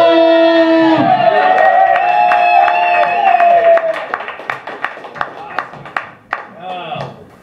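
An audience claps and cheers as a comedian walks onto the stage at a comedy show, following a loud amplified announcement, the applause settling into scattered distinct claps toward the end.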